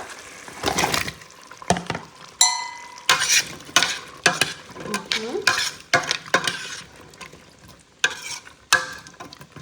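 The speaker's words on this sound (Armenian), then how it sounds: "ու հիմա ավելացնում ենք սիսերը, կարտոֆիլը" Chickpeas and potatoes tipped into a pot of simmering soup base and stirred: uneven clattering and splashing bursts with light sizzling between them, close and fairly loud.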